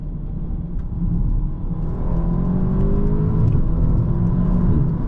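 An Audi S3 8V saloon's turbocharged engine, around 300 horsepower, accelerates hard on the road with a steady, loud rumble and a rising whir as the turbo builds boost, heard from inside the car with no talk.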